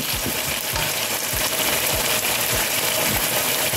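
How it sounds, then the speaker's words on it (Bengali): Onion, garlic and garam masala sizzle loudly and steadily in a pan for chicken korma, with regular scrapes and clicks of a spoon stirring through the frying. "পেঁয়াজ আর রসুন গরম মশলাটা একটু শুকিয়ে নিচ্ছি।"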